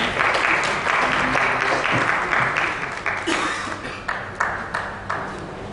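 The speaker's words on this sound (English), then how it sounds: "round of applause for our" An audience at a smart city conference inaugural ceremony applauds during a memento presentation, a loud, dense wash of clapping that holds steady and then thins into scattered individual claps toward the end.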